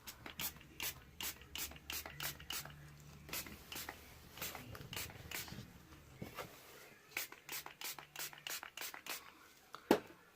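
Small spray bottle spritzing 91% rubbing alcohol onto freshly poured cold process soap, giving many quick, sharp pumping sprays in an uneven rapid rhythm, close but soft.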